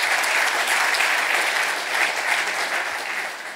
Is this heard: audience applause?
yes